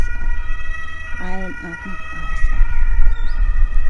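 An ambulance siren wails outside, passing by as sustained tones beneath a fitness instructor's spoken breathing cues during a home workout.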